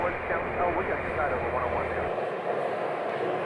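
A Challenger 350 business jet at Scottsdale airport gives off a steady, broad engine roar that holds at an even level throughout, with faint radio-like chatter in the background.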